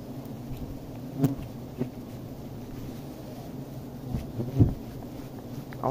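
Wild forest bees buzz steadily around their hive in the woods, a continuous low drone with occasional louder passes of individual bees close by, and some faint knocks and rustles.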